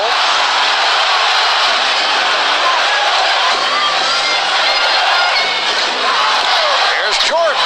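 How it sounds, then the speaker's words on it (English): A packed basketball arena crowd at the 1991 NBA Finals, Bulls against Lakers in Game 5, roaring in a dense, continuous wall of sound, with a commentator talking over it. "Crowd looking for the travel."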